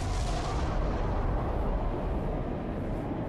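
A deep, rumbling blast stands in for a supernova explosion in space, a loud sustained roar that fades slowly over about three seconds with no voices.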